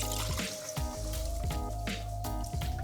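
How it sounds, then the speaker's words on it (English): Sweet, zingy homemade ginger syrup poured through a funnel into a bottle, a steady close liquid gurgle with repeated drip-like plops over a constant background hum. "Grab a bottle and a funnel and just pour that on in."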